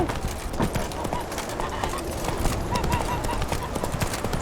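Roach, the horse in The Witcher 3 video game, trots with continuous clip-clop hoofbeats amid dense game noise and a possible whinny.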